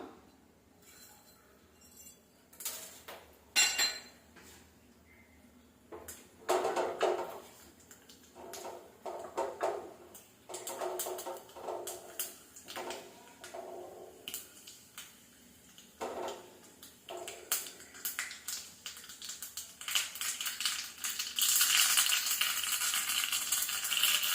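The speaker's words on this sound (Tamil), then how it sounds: "கடுகு உளுத்த பருப்பு கொஞ்சம் போட்டுக்கலாம்" Mustard seeds and urad dal drop into a hot cooking pan, giving scattered clinks and sharp crackles that grow into a steady, loud sizzle toward the end, with no talking.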